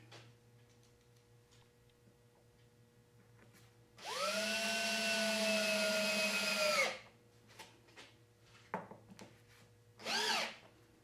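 A power drill drives screws into a wooden reloading bench, one sustained whirring run of about three seconds, then a short burst and a final brief spin, loud and close with no talk.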